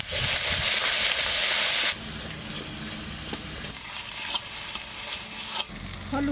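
Ground cumin, coriander and chili paste hitting hot oil with whole spices in a pan, a loud hissing burst for about two seconds that settles into a quieter steady sizzle with occasional stirring scrapes, no voices.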